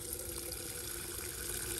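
Water poured slowly from a container, which comes out with force, for an orchid thrips treatment: a steady faint splashing trickle, continuous and unbroken.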